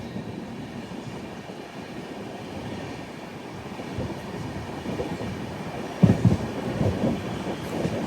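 Prasanti Express train rolling into platform 2 at Hindupur station, a steady rumbling of wheels and carriages with soft clatter and a few sharper clanks near the end, no voices.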